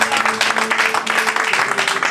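A church congregation applauding, brief dense clapping that stays steady and fairly loud over a faint background tone.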